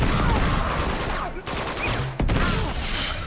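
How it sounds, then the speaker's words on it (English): A grenade launcher fires in the video game Uncharted 2, producing heavy, dense booming blasts that fill the whole stretch with a brief dip in between and a voice talking faintly underneath. "I love the grenade launcher."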